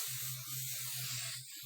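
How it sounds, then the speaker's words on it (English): Hairspray hisses from an aerosol can onto hair in one steady, close burst, with a constant airy spray sound and a faint low hum beneath it, and no talking. "You can hairspray as much as you need."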